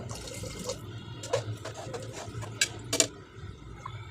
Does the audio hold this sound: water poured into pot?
yes